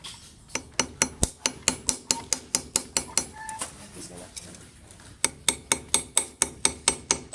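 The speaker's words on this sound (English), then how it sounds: "All right, I'm going to hammer this." Hammer striking a rivet to set it flush, a steady series of sharp metallic taps at an even quick rhythm, pausing briefly midway before the blows resume, close and fairly crisp.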